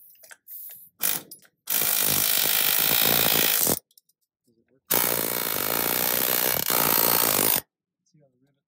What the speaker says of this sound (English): We think we're going to be able to wedge this apart with the air hammer again.